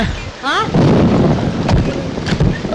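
Heavy rain pours with low rumbling thunder and a swelling musical sweep in a Telugu film scene, a voice speaking over the storm.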